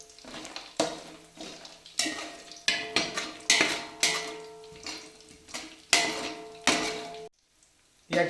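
Peanuts roasting in a pan for Kolhapuri bhadang, a loud close series of rattling scrapes and knocks as the nuts are tossed and stirred against the metal, irregular bursts with a short silent gap near the end.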